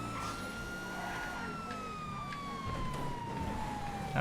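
Police car siren in the video game GTA FiveM, a steady wail sweeping slowly downward in pitch over constant game engine and traffic noise, moderately loud throughout.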